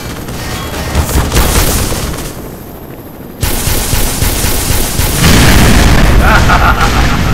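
Loud, booming missile explosions in the first-person shooter Black Mesa, with heavy blasts rolling one into another, a brief lull, then a fresh roaring detonation and sustained rumble to the end.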